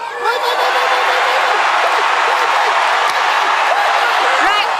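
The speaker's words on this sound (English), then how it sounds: "An explosion of noise from the crowd and the Brazilian team went wild" After a Paralympic powerlifting gold-winning lift of 156 kilos, the arena crowd roars in a sustained, loud wall of cheering, whistles and applause that holds steady throughout.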